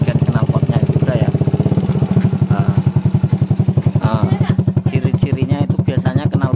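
Motorcycle engine idling with a steady, rapid thumping pulse throughout, close and loud, with someone talking over it; the bike had just been rebuilt and is suspected of blowing white smoke.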